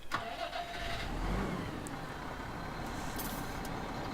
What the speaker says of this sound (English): Now you can hear sort of the baler start up